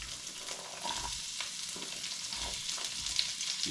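White onions fry in bacon grease, giving a steady close crackling sizzle with occasional stirring scrapes throughout.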